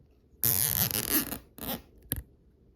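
A plastic zip tie ratcheting tight on custom Marvel Legends Dr. Octopus arms: a close, raspy zipping burst followed by two shorter pulls, with quiet between.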